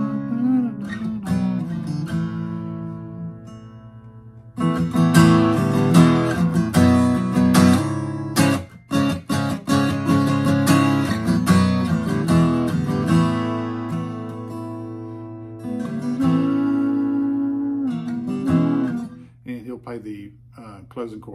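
Acoustic guitar strummed through the chorus of a song, the strumming growing harder in the middle section before easing, with steady chords played up close and no talking.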